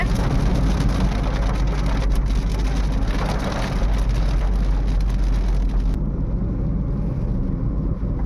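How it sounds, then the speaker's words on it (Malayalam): Steady rain pours down, a dense continuous hiss with a low rumble underneath, like traffic or an engine nearby; no voices. "ഇങ്ങോട്ടൊക്കെ നല്ല മഴയാണ്"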